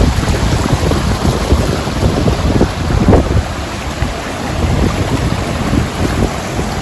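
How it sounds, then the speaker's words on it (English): River water at Barachukki waterfalls in Karnataka rushes loudly and continuously as a broad, steady roar with no pauses. "The river is flowing."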